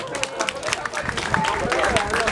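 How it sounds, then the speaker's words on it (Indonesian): Audience applause at an Indonesian youth religious talk, a dense wash of clapping filling the room for a couple of seconds, with voices mixed in. "Tepuk tangan buat kita semua."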